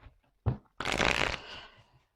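Tarot cards are handled and laid down during a card reading: a short soft tap, then a loud, close riffle and slide of cards that fades out, with no talk.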